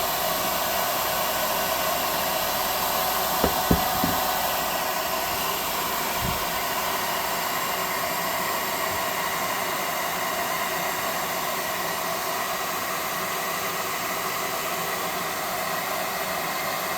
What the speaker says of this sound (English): We'll start to dry that paint with a hot air gun